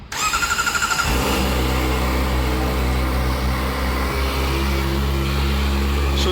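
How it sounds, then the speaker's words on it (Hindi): A Kawasaki Ninja ZX-4R, a 400cc inline four-cylinder bike, starts up and its exhaust revs hard, a loud, close, sustained howl that holds high through the clip with a slight dip near the middle. "तो आपको एग्जॉस्ट की आवाज़ सुना देता हूँ।"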